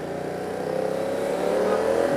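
BMW F 900 R motorcycle engine revving on a road in Mumbai, a steady loud drone that swells and builds gradually toward the end, with no voices.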